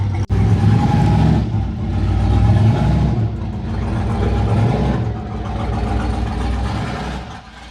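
A single turbo Chevrolet Silverado truck engine revs loud and close in a few swelling pulses, the deep rumble rising and easing between bursts with no voices.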